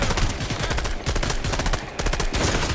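Rapid, continuous gunfire in a video game, with tightly packed automatic bursts rattling loud and close for the whole stretch, a brief gap partway through, and no talk over it.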